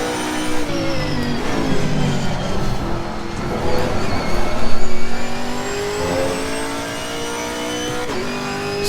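A Chevrolet Camaro GT4 race car at Bathurst in Assetto Corsa Competizione, held in third gear, roars loudly. Its engine pitch climbs and falls through repeated rising sweeps toward the limiter.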